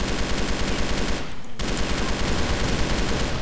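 Rapid automatic gunfire from a weapon in the shooter game Crossfire, loud and continuous with a brief break near the middle, then resuming in a steady burst.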